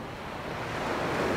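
Ocean waves wash onto a beach in Pattaya, Thailand, a broad, rushing surf swell growing steadily louder, mixed with some wind noise on the microphone.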